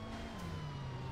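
Police siren in Transformers: The Game, a steady wailing tone with a slowly falling pitch sweep, sounding continuously and fairly faint against a low engine-like rumble.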